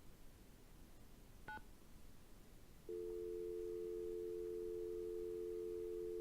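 Phone keypad tones in a Nancy Drew mystery game: a brief double beep of a dialed key, then a steady continuous tone that holds to the end, heard alone without talk.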